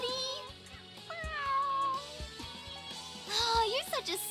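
An anime cat meows over a musical score in Sailor Moon Crystal, several plaintive mews rising and falling amid melodic music and a spoken voice.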